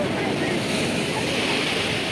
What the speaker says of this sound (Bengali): আর ঢেউগুলো কি মারাত্মক মারাত্মক ঢেউ